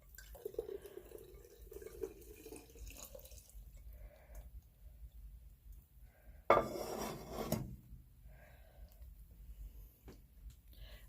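A cooking pot holding simmering ghee is shifted and repositioned on the stove, giving a short, loud metallic clatter and scrape midway through, with quiet kitchen sounds before and after.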